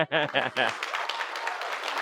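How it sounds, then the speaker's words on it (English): Voice speaks briefly at first, then an audience at a film commission event breaks into moderate applause that continues evenly to the end. "Can we have a big round of applause for the man who's done"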